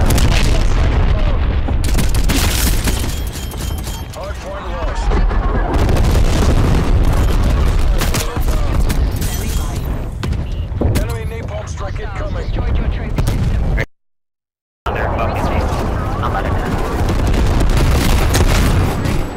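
Explosions and gunfire from Black Ops Cold War gameplay, including a nuke, boom loudly and densely in repeated bursts, with a brief silent gap partway through.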